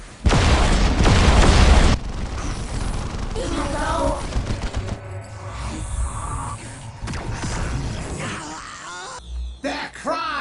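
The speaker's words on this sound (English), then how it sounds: "we are taking fire!" Incoming gunfire and explosions in the Dawn of War Unification Dark Elder campaign, a loud booming blast up front followed by scattered shots, rumbles and battle effects, with a voice calling out in places.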